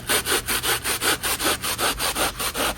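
Console material being cut by hand saw to fit an Escalade console into an older Silverado, a fast, even back-and-forth rasp of about a dozen close strokes with no talk.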